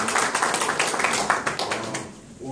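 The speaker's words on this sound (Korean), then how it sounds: "박수로 가십시오." An audience at a symposium applauds, the clapping dense and fairly close and running steadily before it thins out near the end.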